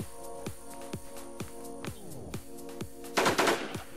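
Rapid gunfire from a weapon in the video game Infestation: sharp ringing shots roughly every half second, each with a metallic tail, ending in a denser, louder burst of firing near the end.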